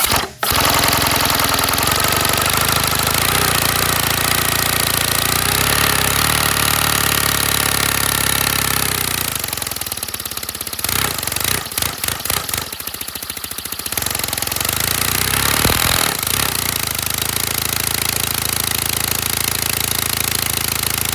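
A loud 157cc inline twin air engine runs with a fast, rough mechanical chatter, holding steady and then briefly stuttering and dipping before settling back into its idle.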